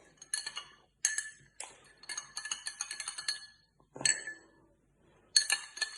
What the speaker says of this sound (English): I'm going to have to really mix that in, because I said that was more of a paste type food colouring.